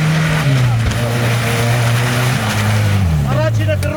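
A rally off-road vehicle with an engine of up to 2.5 litres and wheels up to 31 inches revs loudly and steadily at the start of a trophy-sprint race, its pitch falling then rising again near the end.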